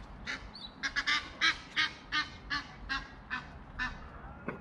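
Geese near a Dutch barge honk over and over in a steady, uneven run of about a dozen calls, fairly close and loud above a low outdoor rumble.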